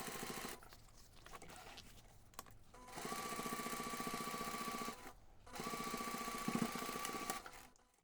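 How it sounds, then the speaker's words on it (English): Sewing machine stitching a fabric seam for a laptop bag zipper pocket, a steady close rapid mechanical whir running in two long stretches separated by a short stop, with no talking. "Then take this to the machine and sew the seam."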